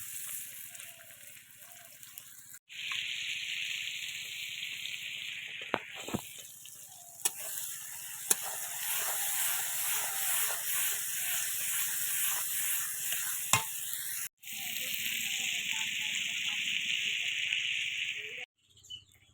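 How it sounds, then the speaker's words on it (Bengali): Oil sizzles in a kadai (wok) during home pasta cooking, a steady broadband hiss that runs for most of the stretch with brief breaks, fairly close and moderately loud, with a few sharp clicks and no talk over it. "কড়াইয়ের মধ্যে তেল দিয়ে দিয়েছি।"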